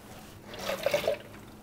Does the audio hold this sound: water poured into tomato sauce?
yes